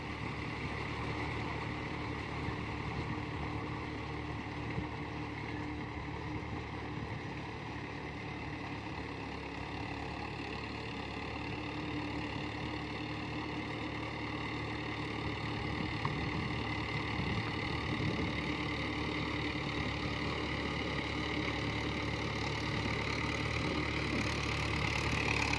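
A Mahindra Bhoomiputra 575 tractor engine runs steadily at about 1300 RPM during field work, a constant, even drone with no one talking.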